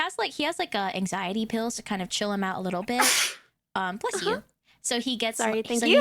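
A single sharp sneeze bursts out midway through casual conversation, with a person talking steadily before it and resuming after a short pause.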